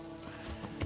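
A horse in Kingdom Come Deliverance gives a few soft hoof clops and a short whinny, faint and brief.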